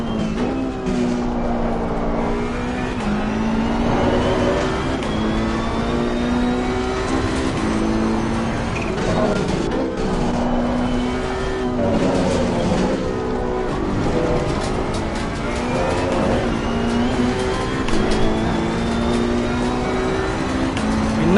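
Ferrari Challenge race car from the ACC sim racing game at Imola, its engine revving loud and continuous with rising and falling pitch through gear changes, accelerating hard out of corners and easing through a chicane.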